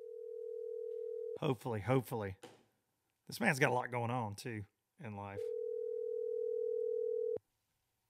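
Steady telephone dial tone plays alone for over a second, cuts out while someone talks, then returns and holds for about two seconds before stopping abruptly, heard while phoning a guest on a call-in show.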